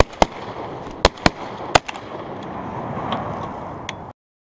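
Shotguns fire at a duck on Reelfoot Lake, four or five sharp, loud cracks in a quick irregular volley over a steady outdoor rumble, followed by fainter pops before the sound cuts off.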